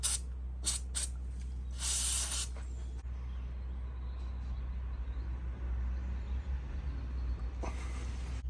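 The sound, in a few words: spraying penetrating oil from aerosol can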